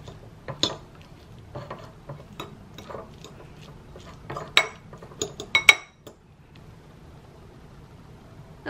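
Salmon being mashed into rice in a bowl, heard as scattered soft clinks and taps of a utensil against the dish, with a few sharper knocks near the middle and a quiet stretch toward the end.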